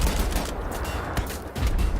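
MP 44 assault rifle firing in Wolfenstein: The New Order, a dense burst of rapid, loud, close gunshots running continuously through the short stretch of game audio.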